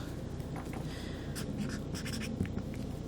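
Keywords are handwritten on paper, with soft scratchy pen strokes coming in short bursts over a faint, steady background hiss.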